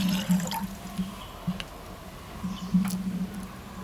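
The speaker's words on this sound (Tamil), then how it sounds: "இப்போ தண்ணி ஆட் பண்ணிக்கலாம்." Water poured into a pressure cooker while cooking cauliflower gives faint, intermittent splashes and drips over a steady low hum, with no talking.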